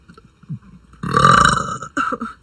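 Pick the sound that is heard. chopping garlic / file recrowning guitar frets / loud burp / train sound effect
loud burp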